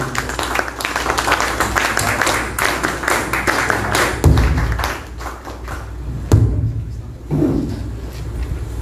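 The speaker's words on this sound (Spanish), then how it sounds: "lo recibimos con fuertes palmas, por favor" An audience at an agriculture and social agenda talk claps to welcome a speaker, a busy patter of applause with a few louder thumps before it thins out toward the end.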